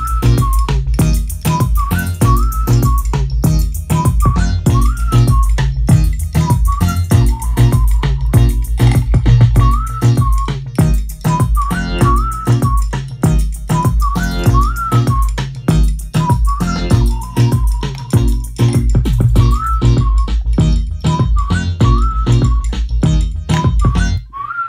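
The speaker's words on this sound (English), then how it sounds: "My whistle." A whistled melody repeats over a loud, continuous music track with a steady beat and layered instruments.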